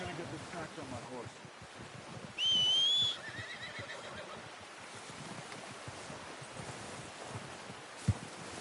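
A horse in the video game Red Dead Redemption II lets out a single loud, brief whinny over quiet outdoor ambience of wind and surf, with someone talking softly around it.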